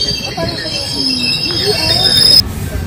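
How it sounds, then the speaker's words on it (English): Train wheels squeal in high, steady tones over rumbling rail noise, with faint voices in the background, until the screech cuts off near the end. "Waiting for our train."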